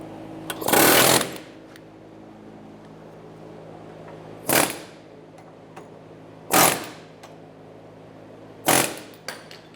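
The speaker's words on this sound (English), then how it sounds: "Using an air hammer or a big hammer, we're going to remove the ball joint out of the control arm." Four sharp bursts of metallic air hammering, knocking a ball joint out of a 2000-2007 Ford Focus control arm, spaced a couple of seconds apart, with a steady low hum running underneath between them.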